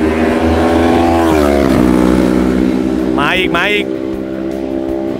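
Superbikes on Pirelli Diablo tyres scream past a race track fence at a trackday, a sustained loud engine drone with rising revs and a quick passing whine, while someone talks over it close by.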